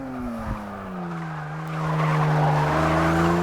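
Saleen S7 race car in Forza Motorsport 6 screaming at high revs under acceleration, a steady rising engine whine with a brief tyre chirp early on, loud and continuous throughout.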